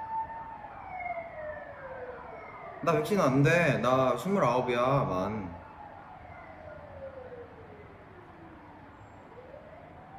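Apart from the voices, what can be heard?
ambulance siren passing by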